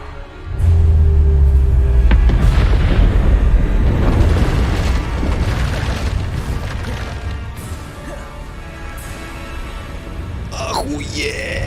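A loud, close Bombarda explosion spell in Hogwarts Legacy, a heavy booming blast that rumbles and crackles for several seconds before fading into debris and game effects, with a voice talking over it.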